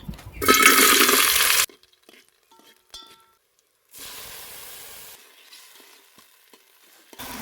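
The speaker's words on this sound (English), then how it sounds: "to the same pot, I'll add my onions and fry them to golden brown" Onions frying in oil in a cooking pot, a loud burst of sizzling and crackling for about a second, then quiet gaps and a softer, steadier sizzle returning later.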